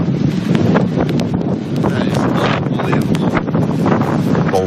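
Strong storm wind gusts blowing across an open parking lot as the sky turns dark, a continuous loud, buffeting roar that batters the microphone throughout, with no pauses.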